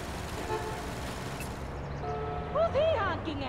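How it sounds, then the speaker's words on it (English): Car horn honking in the Watch Dogs video game, a few short toots standing out over steady street traffic and background game sound near the end. "Who's he honking at?"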